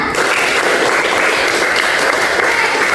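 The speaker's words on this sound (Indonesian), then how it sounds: "tepuk tangan dulu untuk Laila" A classroom of students applauds a classmate, a dense, loud wash of many hands clapping continuously at close range.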